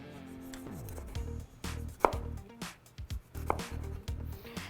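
A very sharp knife cuts a halved Roma tomato into strips on a cutting board, giving a few irregular close knocks and taps against a low kitchen hum, with no talk.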